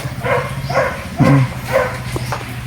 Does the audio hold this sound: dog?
yes